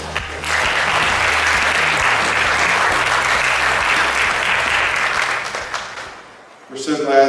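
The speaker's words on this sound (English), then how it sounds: "Let's give yourselves a round of applause." An 8th grade awards ceremony audience breaks into loud, sustained applause that fills the hall for several seconds, then fades out before a voice begins speaking.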